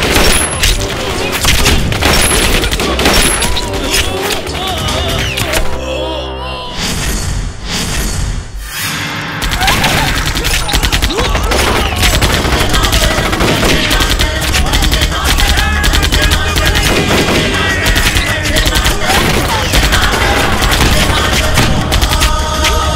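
Battle-scene gunfire in a Bhojpuri war film: dense, loud volleys of shots and booms that run almost continuously, briefly easing before resuming with full intensity.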